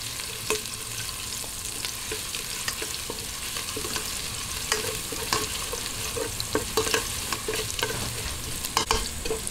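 Ginger and browned garlic sizzle in hot oil for chicken arroz caldo, a steady frying hiss broken by frequent sharp scrapes and clicks of a spatula stirring the pan, close and clear.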